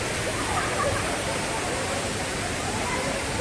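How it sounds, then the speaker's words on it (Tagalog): Isarog Falls waterfall in Mt. Isarog Natural Park roars steadily and evenly throughout, a dense, close, unbroken rush of falling water. "nandito kami sa falls"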